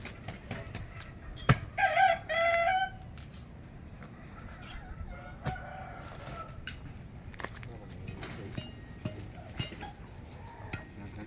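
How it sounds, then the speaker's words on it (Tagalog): A rooster in a small backyard garden gives one short crow among faint clucks, with scattered clinks and knocks of metal and a voice speaking in the background. "Lumabas na yung manok ko doon."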